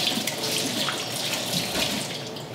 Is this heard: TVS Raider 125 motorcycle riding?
no